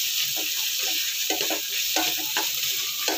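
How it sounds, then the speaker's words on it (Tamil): Tomato pulao ingredients sauté in ghee with a steady, close sizzle and hiss, broken by soft stirring scrapes at irregular intervals. "நல்லா ரோஸ்டட் ப்ரௌன் ஆகிற வரைக்கும் வதக்கணும்."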